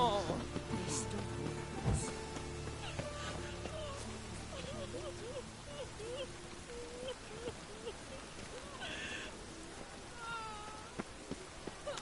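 Steady rain falls throughout a fantasy drama scene, a dense continuous patter that stays under music and tonal sounds from start to finish.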